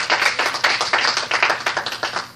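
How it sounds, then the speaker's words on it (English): A small group claps hands together in a steady, fairly fast rhythm, close and lively, with no talking. "let's give the Lord a hand clap"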